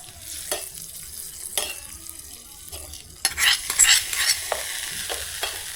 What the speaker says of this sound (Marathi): आता ही फोडणी आपण चटणीवर हे घालून घेऊ